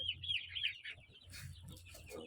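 Incubator-hatched chicks cheeping in a brooding pen, a run of high thin peeps from several birds close by, overlapping and continuous over a low background hum.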